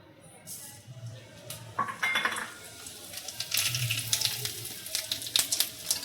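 Whole spices (bay leaf, cardamom, cinnamon, cloves and cumin) go into a pan of hot oil for tempering a boal fish curry, bringing clinks of utensils against the pan and a soft sizzle, close by with faint talk.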